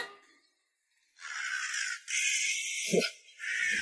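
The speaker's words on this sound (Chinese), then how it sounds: "这乌鸦越来越多了。" Crows caw in a park. Long, harsh calls come loud and close, several in a row with short breaks, and a low bark-like note sounds midway.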